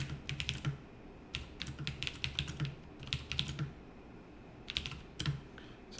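Clicky mechanical computer keyboard typed in quick bursts of sharp clacks with short pauses between runs, close and fairly quiet, no speech.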